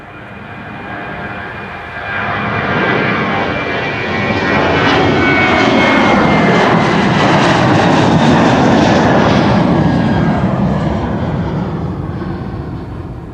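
A KLM airliner at Amsterdam Schiphol passes close and loud, its jet roar swelling in with a sweeping pitch shift, holding strong, then easing off toward the end.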